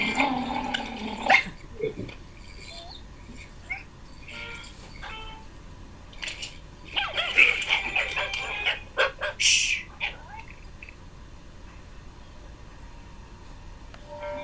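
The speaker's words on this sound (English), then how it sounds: "The dog is chasing away the bird that's eating all of his worms." A dog chasing off a bird that has been eating worms, outdoors, with a few short, bright bark-like yelps and squawking bursts in two clusters, separated by quieter stretches.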